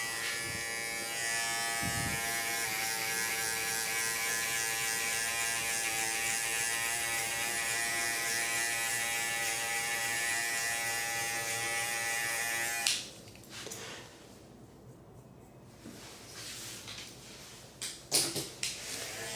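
An electric hair clipper fitted with a 1.5 guard buzzes steadily and close for about thirteen seconds while trimming a man's hair, then switches off, leaving quieter handling sounds.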